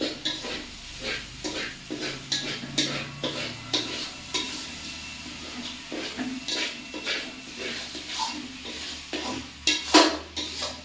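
Rice being fried in a pot for biryani, heard as a rhythmic run of close scraping stirs and metallic spoon knocks over a low sizzle, with a louder clank near the end.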